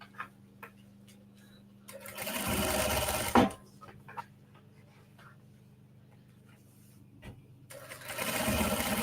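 Sewing machine stitching a seam on a large faux leather tote bag: two short whirring bursts of close motor and needle noise separated by a quiet stretch of faint handling clicks.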